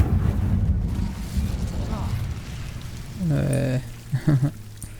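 A fire spell is cast in Hogwarts Legacy and bursts into a short, roaring whoosh of flame with crackling bursts, over a rumbling game background. A brief crackle follows.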